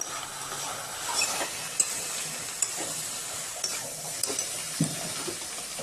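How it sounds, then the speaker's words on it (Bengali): Onion fries with bhetki fish bones in a pan, a steady close sizzle with light ladle scrapes and a few clicks of metal as the mixture is stirred, no voices. "পেঁয়াজটা দিয়ে দিচ্ছি।"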